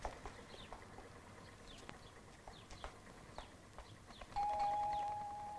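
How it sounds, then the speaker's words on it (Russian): An electric doorbell gives one sustained, steady ring near the end, loud against a quiet room with a few soft taps and rustles before it. "Вот звонок."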